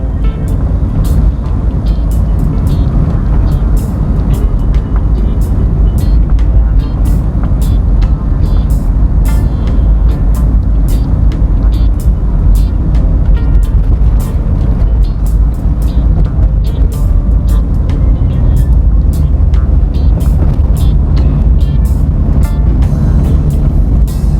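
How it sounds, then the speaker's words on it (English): Car on a bumpy residential road in Mandeville, Jamaica, heard from inside as a constant loud low rumble, with repeated sharp knocks and rattles from the uneven surface. "Having some bumpy ride right now"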